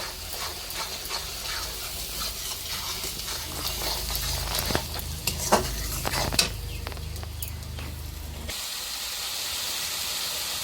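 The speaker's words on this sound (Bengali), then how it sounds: "মশলাগুলোকে ভালোভাবে কষিয়ে নেব" Spices stir-fry in a pan, a hissing, steamy sizzle with scattered scraping and clinks from stirring, loudest in the middle, ending in a quieter, flat hiss.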